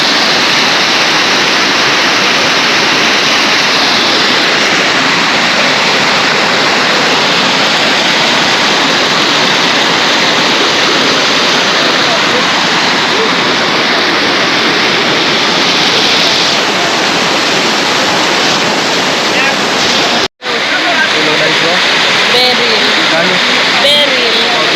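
A waterfall roars in a loud, steady wash of falling water that fills the whole stretch, with a brief dropout near the end; a voice speaks faintly beneath it.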